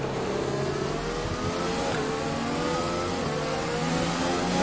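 A Formula 1 race car engine in the F1 2020 video game revs hard on a wet track, a loud, continuous high-pitched drone that climbs and holds steady throughout, with no voices.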